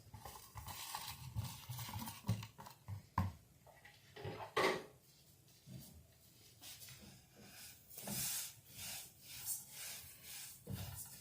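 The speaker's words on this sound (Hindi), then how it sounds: "इनको इस तरह से चम्मच चलाते हुए हमने 3 से 4 मिनट तक रोस्ट कर लेना है।" A spoon stirs sesame seeds dry-roasting in a wok over a low flame, giving soft scraping and intermittent metallic clinks with quiet pauses between strokes.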